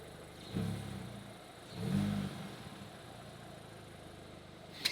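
A Volkswagen Golf idling in neutral gets two light revs, each a short low swell of engine sound before settling back, heard from close by with no talking.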